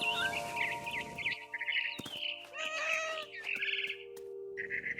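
Meows from a cat in the video game What Remains of Edith Finch, repeated and fairly clear, mixed with bird chirps and the game's ambient music.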